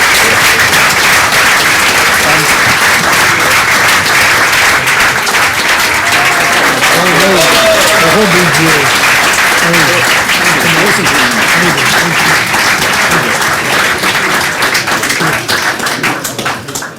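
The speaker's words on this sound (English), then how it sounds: "I think a big round of applause anyway for our three." Sustained applause from a crowd, steady clapping with some voices mixed in, loud and continuous throughout before easing slightly at the end.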